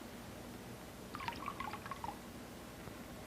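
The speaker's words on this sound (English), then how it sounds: "I pour this indicator dye in the water" Indicator dye is poured into water for a gas acid-base experiment, a faint brief trickle and a few small drips over a steady background hiss, lasting about a second.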